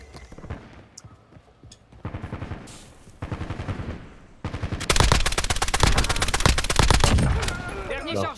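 Rapid bursts of automatic gunfire in Warzone, a Call of Duty battle royale, crackling in quick rhythmic runs that grow heavier and denser toward the end, with someone talking briefly over the shooting.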